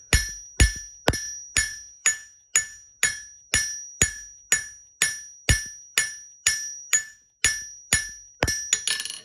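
Power hammer forging a leaf for a trivet, striking in a steady, evenly spaced rhythm of about fifteen sharp metallic blows, each with a bright ringing decay, close and loud with no talk.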